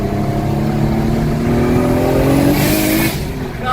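A turbocharged car running on E85 accelerates hard, its engine note rising steadily in pitch as the turbo spools, loud and close throughout with a brief whooshing burst near the end.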